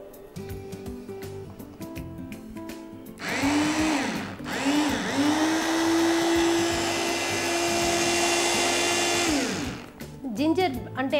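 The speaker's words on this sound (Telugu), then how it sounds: "లైట్గా బ్లెండర్లో వేసుకుందాము." An electric blender runs for about six seconds, blitzing cooled ginger pieces for a ginger sherbet with a steady loud whir, bracketed by brief quieter moments with some talk before and after.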